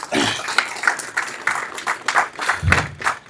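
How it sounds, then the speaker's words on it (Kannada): Audience applause for Gollahalli Prabhakar, a JDS party leader and social worker, at a public gathering in Mulbagal: a steady crowd of many hands clapping at close range, dense and continuous throughout. "ದಯವಿಟ್ಟು ಅವ್ರಿಗೆ ಚಪ್ಪಾಳೆ ಕೊಡಬೇಕು"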